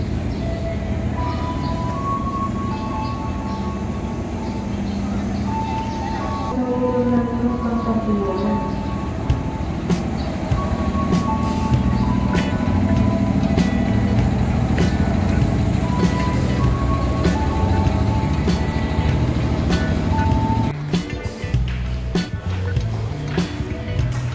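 Train noise at Serpong railway station in Indonesia, a steady loud rumble with shifting tonal whines, passing clatter and rattling near the end, with faint voices now and then.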